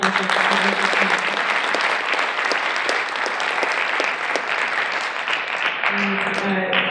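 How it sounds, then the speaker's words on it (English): Audience applause at a panel discussion, a sustained, even wash of many hands clapping that holds for the full stretch, with a speaking voice briefly present near the start and end. "A big round of applause."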